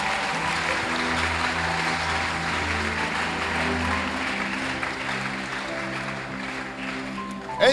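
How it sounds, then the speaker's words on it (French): A church congregation claps in sustained, fairly loud applause over a held musical drone, ending with a short burst of louder noise. "Est-ce qu'on peut acclamer un peu pour le croyant?"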